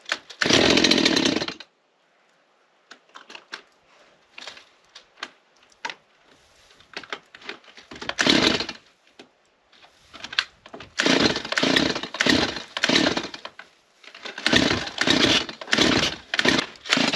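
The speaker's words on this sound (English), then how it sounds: "we'll bring the chainsaw inside, get her warmed up" Stihl chainsaw at an off-grid cabin in Newfoundland, loud and close, sounding in bursts: a short roar, then a quiet stretch of sputtering and intermittent revs before several strong throttle surges near the end.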